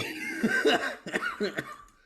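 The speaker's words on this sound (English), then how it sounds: "don't you hide that cough" A few short, rough coughs mixed with breathy chuckling, close and fairly loud, with no words spoken.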